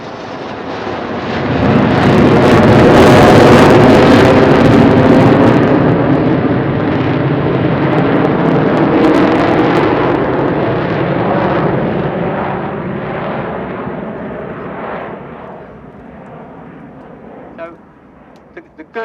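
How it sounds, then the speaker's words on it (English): The Avro Vulcan's Olympus jet engines roar during a final display, building to a loud, sustained rumble that slowly fades with distance, followed by a few faint knocks at the end. "the last time you may be hearing that roar of these wonderful Olympus engines"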